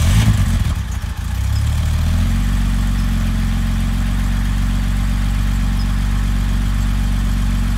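A 1968 Mercedes-Benz 250SL engine cranks briefly, catches, and settles into a loud, steady idle with a low, even rumble that holds close and unbroken throughout.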